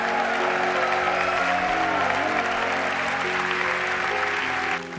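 Steady, dense clapping from a studio audience during a Korean television show about military academy cadets, with sustained music running beneath it and a slight drop at the close.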